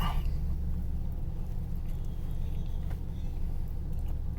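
Car traffic passes on the road beside a vehicle parked at the roadside, a steady close low rumble that runs without a break.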